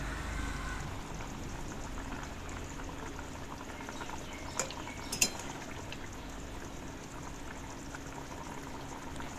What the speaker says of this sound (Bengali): ঝোলটা ফোটা পর্যন্ত অপেক্ষা করব, তারপর মাছগুলো আস্তে আস্তে দিয়ে দেব